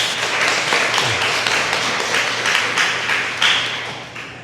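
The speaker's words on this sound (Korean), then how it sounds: "격려의 박수로 한번 응원할까요?" Church congregation clapping together to encourage the young accompanist, a dense, steady patter of many hands filling the room, fairly loud and sustained before tapering off at the end.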